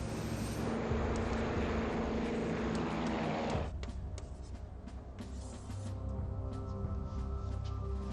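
An airliner taking off on a Santa Barbara Airlines flight lifts off the runway, a loud steady broadband engine roar that drops somewhat partway through and carries on as a sustained rumble.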